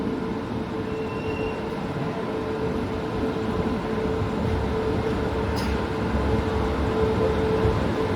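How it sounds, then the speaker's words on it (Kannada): A fast passenger train pulls out of Hosapete Junction at night with a steady, close rumble of wheels and carriages and a constant low hum. The sound stays unbroken throughout, with no voices. "ಹೊಸಪೇಟೆ ಜಂಕ್ಷನಿಂದ ಹೊರಡ್ತಾ ಇದ್ದೀವಿ ನೋಡಿ"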